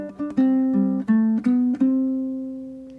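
A ukulele plays a short punk rock riff of quick notes, a few sharp strums and then a long ringing note that slowly fades.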